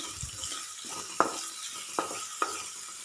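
Shallots sauté in oil for a Kerala-style dal curry, giving a soft, close sizzle broken by a few sharp clicks and scrapes of a spoon stirring the pan, with no voices.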